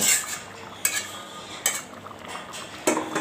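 A utensil stirs mung dal with a fish head in a pot, with a few sharp metallic scrapes and clinks against the pot spaced over a quiet, close background.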